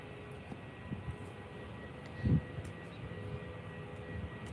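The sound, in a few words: aircraft at Faro Airport during planespotting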